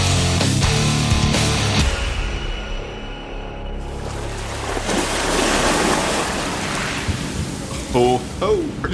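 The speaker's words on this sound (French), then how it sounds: "comme je ne sais pas si vous pouvez l'entendre, mais c'est venteux" Strong wind sweeps across the open pool deck of a cruise ship during the 70000 Tons of Metal festival cruise, a loud, continuous roaring buffet against the microphone with surges, and voices briefly audible near the end.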